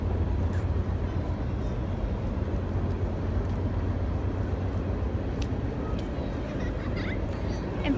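A train passes close to a park at Century Park in Greer, a steady low rumble filling the whole stretch at constant loudness with no voices.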